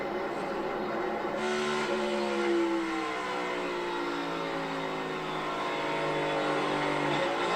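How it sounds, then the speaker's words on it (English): NASCAR Cup car at Phoenix racing, its engine note climbing and dropping through gear changes as it passes, loud and continuous with sweeping harmonic whine and no talk. "You heard Larry talking about drivers going clear down to 3rd gear, and that's exactly what you heard with Briscoe."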